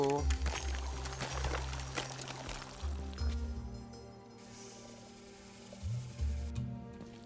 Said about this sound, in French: Faut que je récupère de l'eau.